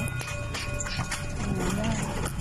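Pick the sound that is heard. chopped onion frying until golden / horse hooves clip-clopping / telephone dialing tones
horse hooves clip-clopping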